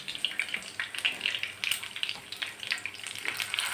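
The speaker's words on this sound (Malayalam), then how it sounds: "ഞാനത് വറുക്കാൻ വെളിച്ചെണ്ണയിലേക്ക് ഇടാണ് കേട്ടോ" Chicken pieces for chicken kondattam frying in coconut oil, giving a steady close crackling sizzle with bright spitting pops throughout and no talking.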